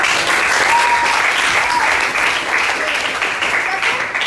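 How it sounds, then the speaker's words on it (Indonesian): Students in a classroom applaud together, a dense, steady burst of many hands clapping that stays loud for several seconds, with some voices mixed into the noise. "Baik, tepuk tangan untuk kalian."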